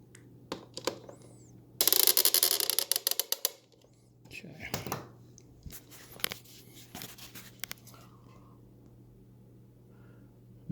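Small metallic clicks, scrapes and ratcheting ticks come from screws being tightened on a FloatLife V3 plate fitted to a Onewheel Plus, close and intermittent with a brief burst of rattling, while someone talks quietly.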